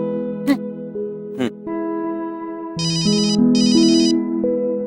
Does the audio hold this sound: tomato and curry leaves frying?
no